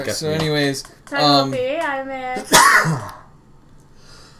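A single sharp sneeze bursts out between stretches of casual conversation, loud and close, followed by a brief trailing breath.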